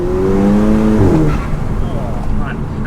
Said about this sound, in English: because of course we've got a DV at the front of the engine bay, you hear all that chirping, sounds like a rally car now